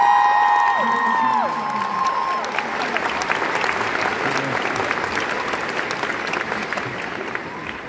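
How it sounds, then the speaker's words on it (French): A theatre audience at a live career-anniversary show for a singer breaks into loud, sustained applause and cheering, dense and continuous throughout, with a voice heard briefly at the start. "on peut les applaudir très fort"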